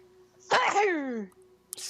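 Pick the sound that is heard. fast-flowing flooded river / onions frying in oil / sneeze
sneeze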